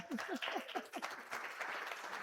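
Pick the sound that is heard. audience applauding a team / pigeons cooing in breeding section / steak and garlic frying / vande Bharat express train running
audience applauding a team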